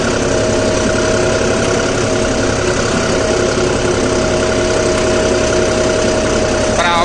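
A John Deere 5405 CRDI tractor engine runs steadily nearby in medium first gear, a loud, constant diesel drone with a slight knocking rhythm throughout.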